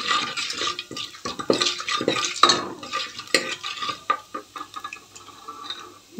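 Cumin and mustard seeds fry in a pan with a light crackling sizzle as a spoon stirs and scrapes through them in uneven strokes, close and moderately loud, with no speech.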